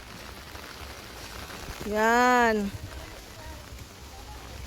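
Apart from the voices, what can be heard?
heavy rain falling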